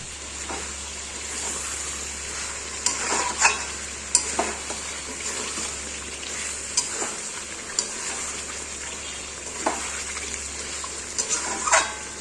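Chicken korma frying on a full flame, a steady bright sizzle with intermittent scraping stirs and clinks of a spatula, close up and without talk.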